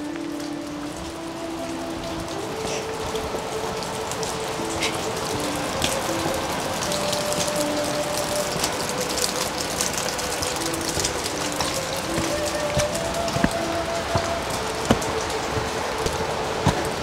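Water drips constantly from a damp cliff face onto mossy wood and ground at a remote mountain home in Hunan, making a dense, steady patter like light rain, with a faint low hum beneath.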